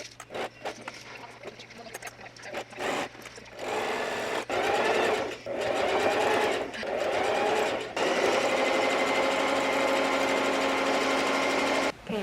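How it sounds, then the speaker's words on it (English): A sewing machine stitching a bag body, close and loud, starting with short stop-start bursts, then running in long steady runs with a fast mechanical whir, briefly pausing between runs. "I'm done sewing the body"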